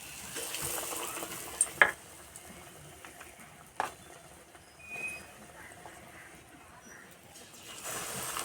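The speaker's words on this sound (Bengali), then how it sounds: "তেল গরম হয়ে গেছে, এবার ভেজে নেব" Cauliflower fritters coated in gram flour batter fry in hot oil with a faint, steady sizzling hiss, low and continuous, with a couple of brief clicks and knocks near the start.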